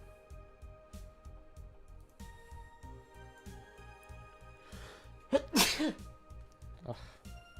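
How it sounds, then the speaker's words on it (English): A single loud sneeze bursts out suddenly, close and sharp, during an online Final Fantasy XIV gaming session, with a quieter sniffly follow-up a moment later over steady, rhythmic background game music. "Oh god, I feel like I have to sneeze."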